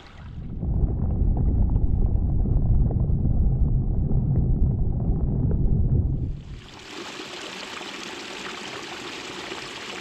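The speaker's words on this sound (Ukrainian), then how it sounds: "перепочинок біля струмка і далі вперед." Steady broadband rush of a flowing mountain stream in autumn along the Bisse du Torrent Neuf, loud and close for about six seconds, then shifting to a thinner, hissy wash of water at lower volume.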